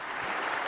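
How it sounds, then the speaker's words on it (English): Steady applause from a crowd, a dense wash of clapping that holds at an even level throughout without any break. "How about another round of applause for our new president?"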